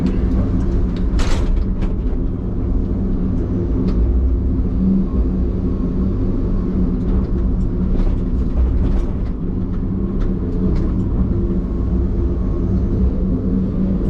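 A loud, steady low engine rumble drones on without letup, with faint scattered clicks and rattles on top and no voices.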